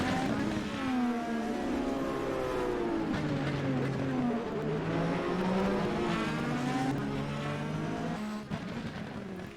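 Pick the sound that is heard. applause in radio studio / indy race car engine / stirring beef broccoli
indy race car engine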